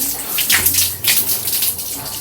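Water runs and splashes while waist-length hair is rinsed out, a close, continuous watery rush with uneven surges as it falls through the hair.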